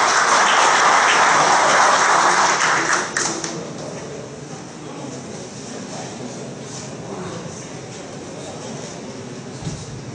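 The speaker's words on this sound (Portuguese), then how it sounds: "recebemos uma salva de palmas" A room of people applauding at a municipal council session honoring military police officers, a dense burst of clapping that fades after about three seconds into a quieter murmur of voices and scattered claps.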